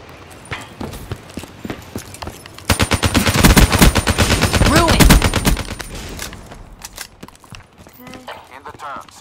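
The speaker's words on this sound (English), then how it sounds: "The Man of War, it's a very solid weapon." Rapid automatic fire from the Man-O-War rifle in Black Ops 3, a loud, dense burst lasting about three seconds amid other battle noise, with someone talking over the action.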